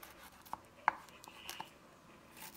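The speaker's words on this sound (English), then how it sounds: "And you need to slice into thin." A few sparse, faint knife cuts through raw chicken breast being sliced thin on a board, isolated soft taps spread apart over a quiet background.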